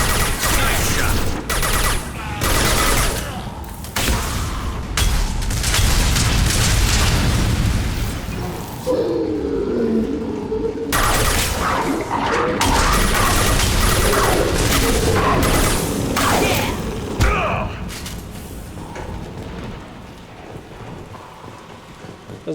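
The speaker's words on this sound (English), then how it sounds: "That was a gunshot, wasn't it?" Gunfire in Mass Effect 2, a dense barrage of loud, booming shots and blasts in clustered bursts, pausing briefly in the middle before resuming, with a voice heard amid the din.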